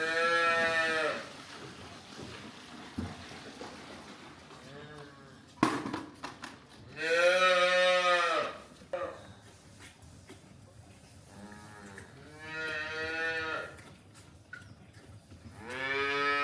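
Young dairy calves, reared on milk replacer, moo at feeding time on a farm, giving several loud, drawn-out calls with quieter pauses between them.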